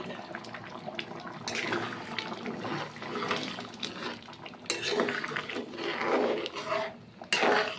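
Hot water poured from a pot into a cooking mixture splashes and gurgles close by in several bursts, broken by clinks of a metal utensil against the pan.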